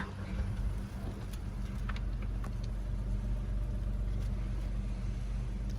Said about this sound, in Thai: แตะเบรกนะคะกดปุ่มสตาร์ทได้เลยค่ะ